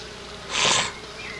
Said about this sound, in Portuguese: As abelhas que sobraram entre os potes de mel excedentes são recolhidas com este sugador.